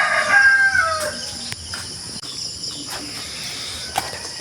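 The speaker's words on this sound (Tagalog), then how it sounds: "May manok pa dito." A rooster crows loudly at the start amid a vegetable garden, followed by steady insect and cricket chirping and faint clicks in an outdoor rural setting.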